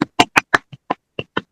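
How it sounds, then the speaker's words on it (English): Over a video call, sharp, evenly spaced handclaps ring out close to the microphone, sounding clipped and thin, like one participant clapping rather than a full crowd. "give a round of applause for Lynn, so we can all hear it"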